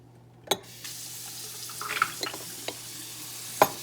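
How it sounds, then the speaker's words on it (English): Reverse-osmosis water is poured into a container holding an aluminum hydroxide hydrogen experiment, heard as faint, close trickling and splashing with a few sharp clinks against the vessel. "so I'm just going to pour more water in here."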